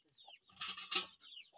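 A few chickens clucking close by in short bursts, a louder run of clucks in the middle followed by softer calls, faint overall with quiet gaps between.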